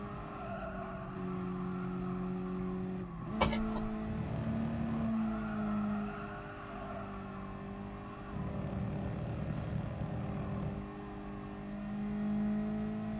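A Mazda MX-5 engine drones steadily while driving in Gran Turismo Sport, a sustained tone that changes pitch as it shifts gears and revs, with one sharp click-like transient early on.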